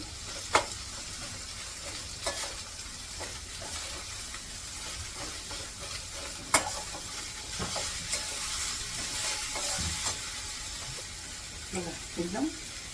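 Onion sautés in a pan with a low steady sizzle, broken by occasional clinks and scrapes of a spoon turning it over; fairly quiet and close, with a voice speaking faintly at times.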